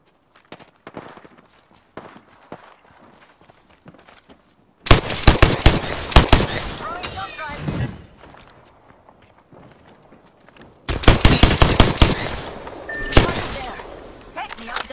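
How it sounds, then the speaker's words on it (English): Automatic weapon fire in the battle royale shooter Apex Legends, with two loud rapid bursts breaking in after quieter footsteps and game announcer voices. "They're shooting at me."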